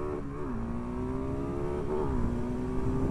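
A Yamaha MT-07 motorcycle with its CP2 parallel-twin engine revs, the exhaust tone rising and dipping in a couple of throttle blips over a steady idle, fairly close and alone without speech.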